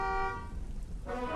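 Car horn honks from behind on a street, two short bright tones with a muffled rumbling pause between them.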